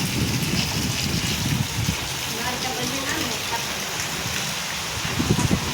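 Heavy monsoon rain pours down in a dense, continuous hiss, close and steady throughout.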